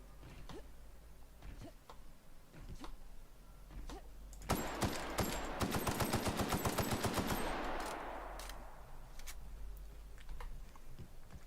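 Rapid gunfire bursts from the video game The Outer Worlds erupt in the middle, a dense automatic rattle among scattered single shots over a low background rumble.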